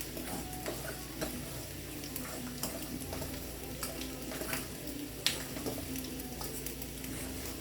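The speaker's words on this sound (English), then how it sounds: "And I'm using a fork to stir these up." A fork stirs a salmon croquette mixture in a bowl, producing soft irregular scraping and light clicking taps over a faint background hiss, close and quiet.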